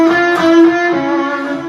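An electric guitar string is bent a half step from the minor third up to the major third, one sustained note sliding upward, loud and close with a slightly driven tone.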